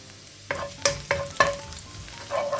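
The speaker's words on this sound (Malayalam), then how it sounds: "ഓയിൽ ചൂടായതിലേക്ക് വെളുത്തുള്ളി കൊത്തി അരിഞ്ഞിട്ട് ഇട്ട് കൊടുക്കുക" Chopped garlic dropped into hot oil in a pan, giving several short sizzling bursts with stirring scrapes in between, close and fairly loud, with no voices.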